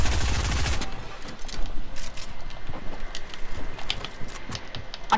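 Rapid drum gun fire in Fortnite, a loud dense burst at the start followed by a stream of quicker, lighter shots and clicks that stay busy and fairly close throughout.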